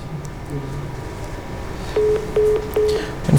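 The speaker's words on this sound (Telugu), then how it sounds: "నేను కాల్ కనెక్ట్ చేసే ప్రయత్నం చేస్తున్నాను." Telephone keypad dialing tones while a call is being placed, three short, evenly spaced beeps in the second half, clear over a low background hum.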